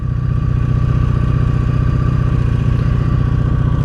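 A 1983 Honda Sabre VF750S motorcycle engine idles steadily with a valve tap, a close, loud, even mechanical thrum with a fast rhythmic ticking pulse running through it.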